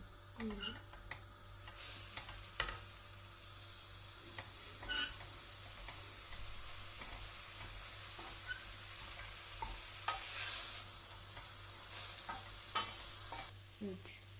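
Boiled, chopped kale tipped into a pot of hot fat gives a soft, fairly faint sizzle, broken by scattered clicks and scrapes of stirring that come and go with brief louder bursts.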